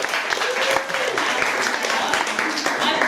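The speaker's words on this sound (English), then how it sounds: "Can we get a round of applause?" A studio audience claps together on cue during a blindfolded cooking-contest show, a steady dense patter of hands filling the whole stretch with some voices mixed in.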